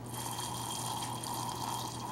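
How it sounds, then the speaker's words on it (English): Deionized water poured into a soil sample for a hydrometer test, a steady close trickle with a faint continuous hum underneath and no talking. "you add DI water"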